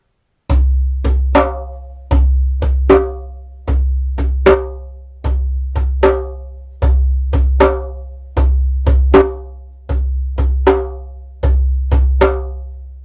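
Booming low drum hits with sharp slaps on top repeat in a steady, lilting West African 12/8 groove, loud and close, with no voices.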